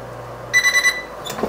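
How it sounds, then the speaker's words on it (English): A kitchen timer beeps in a quick run of four or five electronic chirps while a lamb rack cooks, loud and close in a quiet kitchen. "So timer's gonna go off here and I'll pull that pan out"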